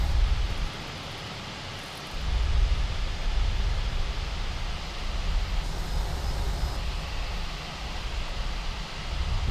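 Airbus A320 jet engines spool up for takeoff in Microsoft Flight Simulator, a steady broadband roar with a deep low rumble that swells after a couple of seconds and holds loud and continuous throughout, with no talking.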